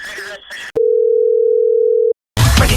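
A phone call's ringing tone: a steady electronic tone sounds alone for over a second, then cuts to silence before a burst of other noise, with brief sound ahead of the tone.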